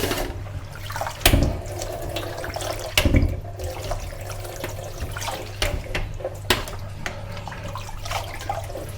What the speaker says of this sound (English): Rinse with water several times because it is quite dirty and sandy.